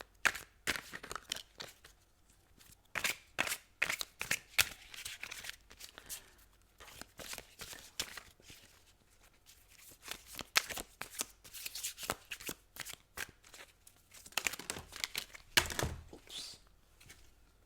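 Tarot cards are shuffled close up in quick repeated riffles and slaps, an irregular run of crisp papery bursts lasting many seconds, with no talking.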